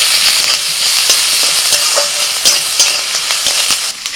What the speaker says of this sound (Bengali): এবার দিচ্ছি আদা, রসুন আর কাঁচা লঙ্কা কুচোনো।